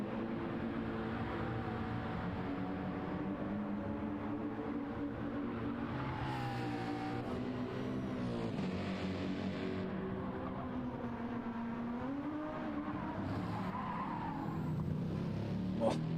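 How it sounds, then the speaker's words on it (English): Race cars' tires squeal and skid during the Nürburgring 24 Hours endurance race, a steady, continuous screech mixed with engine noise that carries on throughout, with commentary voices talking over it. "Every time I hear those tires, I feel like someone is going for a spin"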